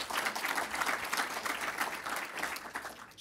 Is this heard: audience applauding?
yes